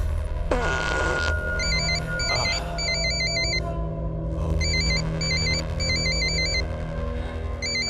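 A phone rings with a repeating electronic ringtone in short bursts over a steady low hum and background noise, close and moderately loud, with no voices.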